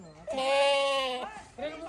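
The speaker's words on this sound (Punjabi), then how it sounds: "ਬੱਕਰੀਆਂ ਹੀ ਵਾਜਾਂ ਮਾਰਨਗੇ ਕਹਿੰਦੇ ਸਾਨੂੰ ਪੱਠੇ ਪਾ ਕੇ" Goats on a farm bleat up close, one long wavering cry followed by the start of another.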